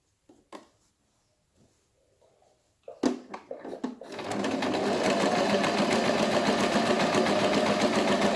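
A sewing machine stitches around the edge of a fabric face mask, starting after a few soft clicks and handling noises, then running in a steady, close, continuous whir for several seconds with no talk.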